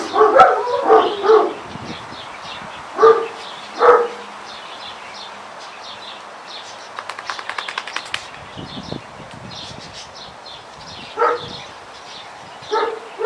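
A dog barks in several short bursts while being sprayed with water indoors, with a rapid clattering rattle partway through and quieter scuffling between the barks.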